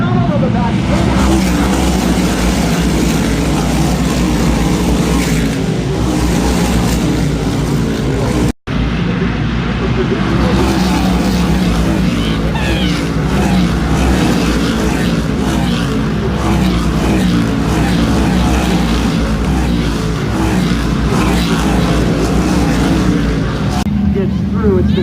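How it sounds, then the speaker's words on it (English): Race cars circle a track at a racing series event, their engines roaring loud and sustained for the whole stretch, with a brief dropout partway through and a commentator talking over the noise. "It's the 92 car of Anthony Nocella who went around"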